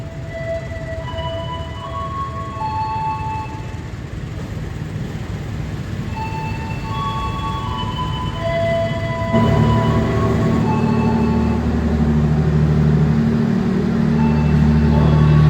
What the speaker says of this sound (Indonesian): Nah, baru aja berangkat kereta api Mutiara Selatan.